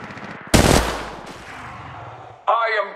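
Gunfire in Apex Legends Mobile, a loud close burst of rapid shots followed by a decaying tail, then another sharp mechanical burst near the end.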